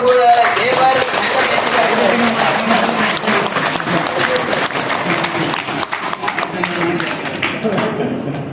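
An audience at a teachers' conference breaks into sustained applause, with dense, even clapping throughout and a few voices mixed in underneath.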